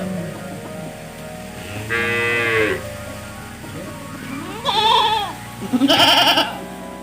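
A buffalo tied to a post at a poor farmer's home calls three times, in loud, drawn-out moos separated by short pauses.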